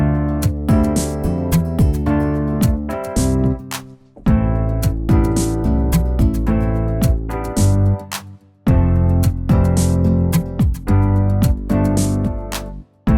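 A produced track layers plucked nylon-string guitar over two fretless bass guitars, with busy rhythmic notes and gliding bass lines playing continuously with brief drop-outs, loud and clear with no voices.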